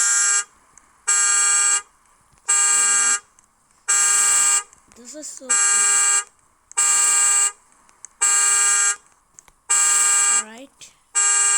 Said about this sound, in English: Every car alarm sound.